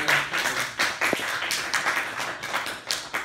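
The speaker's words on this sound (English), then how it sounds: "A round of applause for" Scattered, uneven clapping from a lecture audience at the University of Hawai'i at Hilo, moderately quiet, with individual claps standing out as brief sharp bursts and no one speaking over them.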